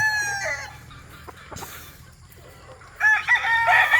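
A young gamecock stag on a farm crows nearby, with a short crow at the start and a louder, fuller crow near the end, separated by a quieter stretch of light farmyard background.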